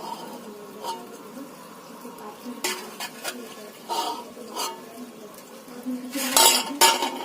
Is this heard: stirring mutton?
yes